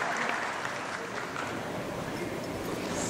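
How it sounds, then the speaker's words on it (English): A convention crowd at a furry dance competition applauds a performer called Whisper Banshee, steady wash of clapping heard from some distance, fairly soft and even across the whole stretch. "warm round of applause for Whisper Banshee"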